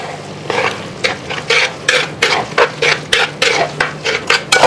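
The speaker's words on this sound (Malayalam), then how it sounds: "നന്നായി ഒന്ന് മിക്സ് ആക്കി എടുക്കണം." Yogurt being stirred into aviyal, a Kerala mixed vegetable curry, in a pan: a steady series of soft, rhythmic scraping and squelching strokes, close and fairly loud, with no voices.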